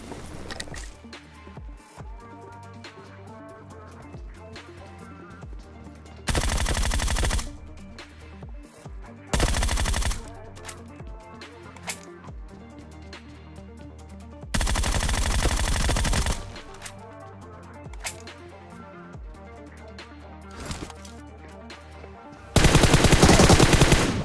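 Groza assault rifle firing in PUBG Mobile, several loud sustained automatic bursts of a few seconds each breaking over quieter game ambience and footsteps, the last burst closing the sequence.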